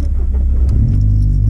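A Peugeot 206 S16 engine revs high, a loud close rumbling drone that dips and then climbs in pitch over a brief stretch, with no talking.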